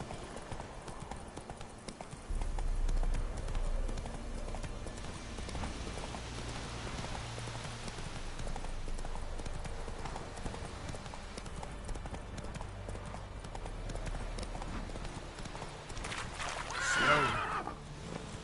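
Roach the horse gallops in The Witcher 3, with a continuous rhythm of clip-clopping hoofbeats that stays steady and fairly close throughout, mixed with game ambience and a voice now and then.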